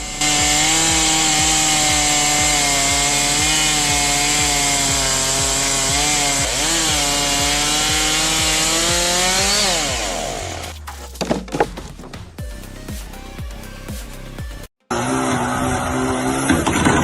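A chainsaw runs loud and close at a high steady buzz while cutting into a tree, the tone wavering under load before breaking into crackles, thuds and scraping of wood, then the engine roars again.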